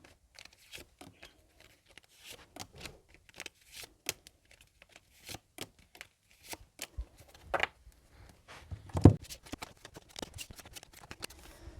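Crisp papery riffling and soft slaps of tarot cards being shuffled repeatedly, close up, with irregular bursts and brief pauses.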